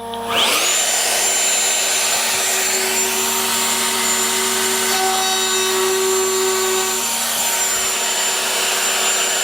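A Festool MFK 700 router with a roundover bit cutting wood, spinning up abruptly and then holding a loud, steady high whine with the grinding hiss of the cut for several seconds, close by with no talking.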